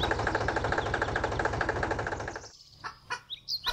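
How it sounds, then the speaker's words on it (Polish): A red tractor engine idles with a rapid, even chugging for about two and a half seconds, then cuts off, leaving quieter bird-like chirps and clucks. "Ale masz świetny czerwony traktor."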